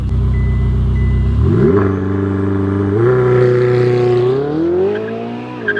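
Ferrari 488 launching hard on launch control: a loud, close engine holding high revs, then surging through rising pitch sweeps with quick upshifts, and one voice briefly whooping.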